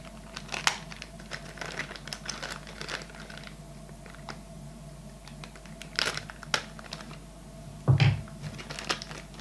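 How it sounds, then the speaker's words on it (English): Small plastic bag being opened during assembly of a clock module kit, with soft, intermittent crinkles and a few sharper rustling bursts over a quiet room hum. "let's get this next little plastic bag open"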